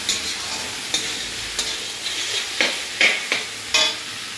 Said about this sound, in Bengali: এই দেখো ম্যাগি চাউমিন বানাচ্ছি